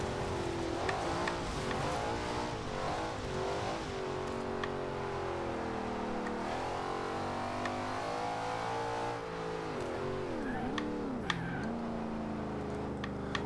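A 2013 Ford Shelby GT500 engine in Forza Horizon 2 revs and shifts continuously, pitch rising and falling through gear changes, with a steady racing-game engine drone throughout.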